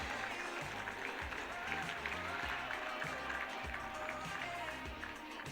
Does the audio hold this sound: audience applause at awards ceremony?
yes